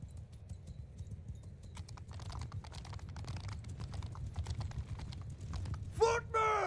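Horses moving in the video game Mount & Blade Bannerlord, a dense quiet patter of hoof clip-clops mixed with keyboard typing, a louder burst near the end, someone talking throughout.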